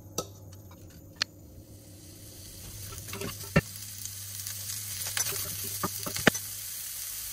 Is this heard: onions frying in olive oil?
yes